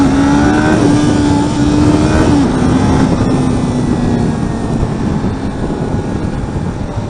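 A Kawasaki Ninja 400 or Z400 engine revs loud and close with a buzzy, high-pitched drone. The pitch holds steady, then drops slightly and eases back while the engine keeps running.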